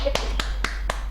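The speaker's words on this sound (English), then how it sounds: "Who asked you to clap?" Four sharp, evenly spaced hand claps from a single person in a studio, close and distinct over a steady low hum.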